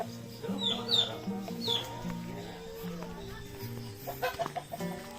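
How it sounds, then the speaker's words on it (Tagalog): Chickens cluck in short bursts at close range amid farmyard background noise, with people talking throughout. "Bugtaon din na itong manok, no?"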